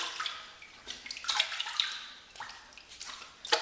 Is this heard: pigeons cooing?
no